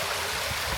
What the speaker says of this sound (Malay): Air dia sentiasa mengalir.